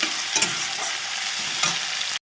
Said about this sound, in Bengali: এখানে পেঁয়াজটা ভেজে নেবো আমি